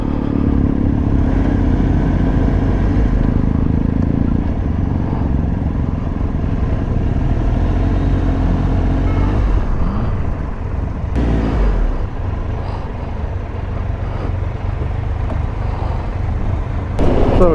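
A touring motorcycle pulls away after a fuel stop and rides on along a UK road, its engine a continuous close drone that shifts pitch as it changes gear, with wind rumble mixed in.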